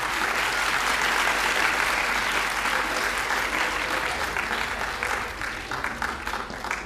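A college audience at a Basant Panchami celebration claps loudly and steadily for their teachers, dense applause that fills the hall and slowly thins toward the end.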